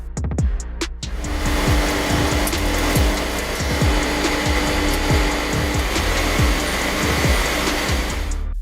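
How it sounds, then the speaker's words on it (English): A production machine making step drills with cubic boron nitride (CBN) processing runs loud and steady, a constant whirring drone layered with a rapid series of sharp knocks and clicks throughout. "move to the machine that makes step drills"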